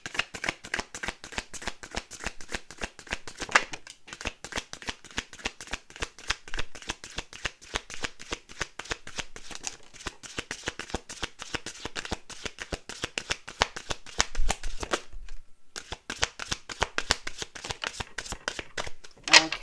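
A deck of tarot cards is shuffled close up, with rapid crisp riffles and flicks repeating in bursts and a short pause near the end.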